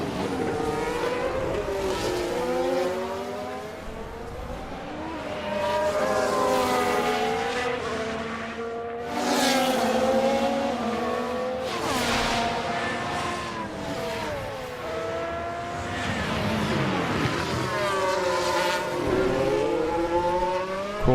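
Formula 1 race cars in the F1 Manager 2024 game at the Chinese Grand Prix, loud high-revving engines whining and shifting pitch continuously as several cars pass and chase each other, with no pause in the roar.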